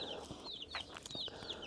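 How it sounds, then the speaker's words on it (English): Young black sex-link chicks about two weeks old sit in a brooder box, letting out soft, repeated high chirps and clucks, quiet and close, with light handling noise. "So these are the chickens."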